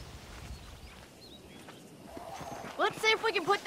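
Horses in the Red Dead Redemption video game neigh and whinny near a ranch with wild horses, a soft loping hoof rhythm underneath, rising to several loud, close whinnies near the end while speech runs faintly in the background.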